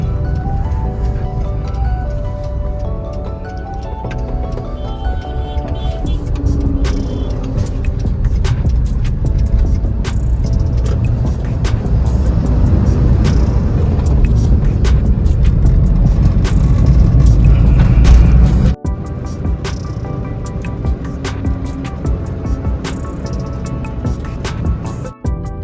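A car drives and makes a U-turn on a road near Delhi. A loud, steady engine and road rumble runs throughout and drops off sharply near the end.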